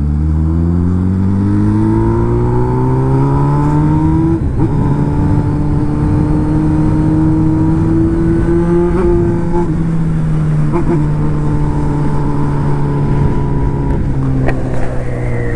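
Loud, continuous Honda Hornet motorcycle engine drone while riding at night, pitch rising and falling as it accelerates and shifts, with steady wind rush throughout.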